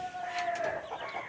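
Chickens in a backyard bird-keeping setup give soft, fairly faint clucks and short calls, heard alone without talk.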